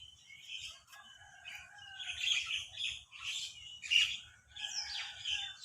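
Several wild birds chirp and call outdoors at moderate distance, overlapping tweets and whistles rising and falling over a quiet low background.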